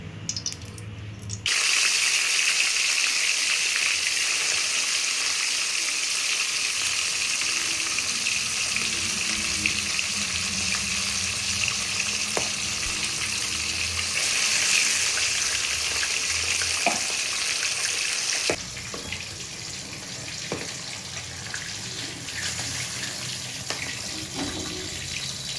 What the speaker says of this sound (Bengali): এবার মাছগুলোকে আমি হালকা ভেজে নেব